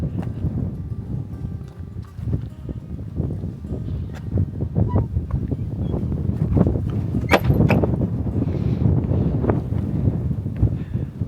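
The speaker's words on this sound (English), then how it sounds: "Very windy today" Steady low rumbling wind buffets the microphone throughout at an outdoor art installation in the Netherlands, with occasional faint knocks and thumps in the background.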